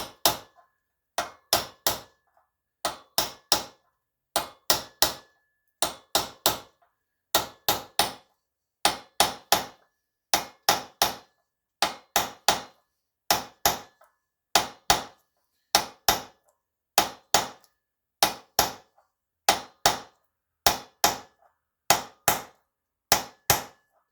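Sharp metallic hammer blows ring out in quick pairs and triplets as a wheel bearing is driven into place, repeated steadily and close with short pauses between each burst.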